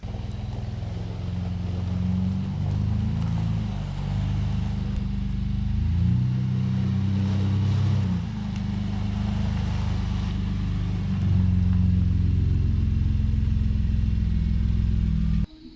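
A mid-sized truck engine running loud and close as it moves into a garage, a steady low rumble that shifts pitch with throttle changes over about sixteen seconds.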